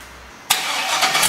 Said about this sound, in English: we're going to fire it up